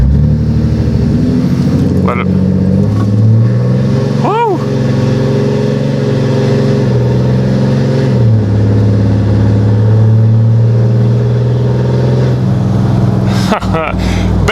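A 2021 Ram 2500 Cummins diesel pickup with a mild tune and exhaust brake on launches hard, its engine note rising under load for about four seconds, then easing and building again; a steady loud drone throughout with people talking and cheering over it.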